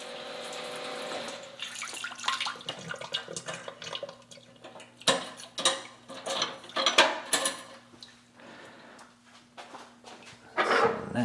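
A 25-watt pump on a Brewzilla Gen 4 65L brewing system runs at full power, pushing water with a steady gushing, splashing rush and a low hum throughout, surging louder in places.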